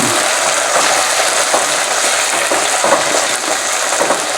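Tomatoes fry in a pan while being lightly stirred for Vadipatti poondu kuzhambu, a Tamil garlic curry. A loud, close, continuous sizzle carries through, broken by small stirring clicks, with no talking.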